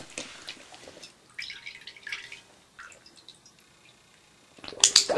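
A dog blowing bubbles in water makes short gurgling, dripping bursts at irregular intervals, with quiet gaps between them and a louder splashy burst at the end.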